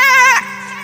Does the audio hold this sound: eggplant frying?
no